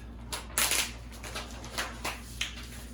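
Backing film is peeled off a design on an applicator table, heard as a few crisp, crackling rips and tears over a steady low electrical hum.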